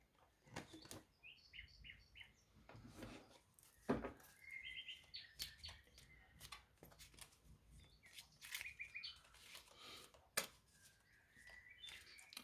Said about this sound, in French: Alors, je vous ai mis des oiseaux.